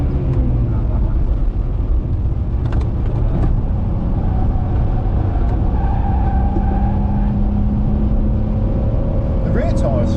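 A BMW 330ci Clubsport on a racetrack, its engine droning loud and steady throughout, with the tone shifting as it drives and people talking over the noise inside the car.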